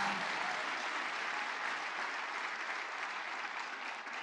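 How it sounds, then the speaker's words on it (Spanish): A church congregation applauds together, a steady wash of clapping held at an even loudness for several seconds with no break and no voices standing out. "Vamos a dar un aplauso al Señor"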